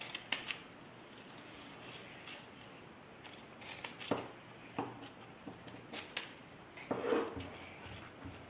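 Scissors snipping folded paper strips for a Christmas star, quiet scattered cuts and soft paper rustles at an uneven pace, close by.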